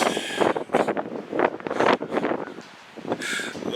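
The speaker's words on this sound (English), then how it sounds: "Love when that wind starts up right as you're starting to talk." Gusty wind buffeting a microphone outdoors in a garden, with rough low rumbling bursts that rise and fall over a few seconds, loud and close.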